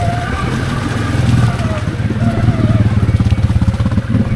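A Can-Am Outlander XMR 700 ATV spins its wheels in thick swamp weeds, its engine revving loudly and steadily with pulsing throb and churning noise close by.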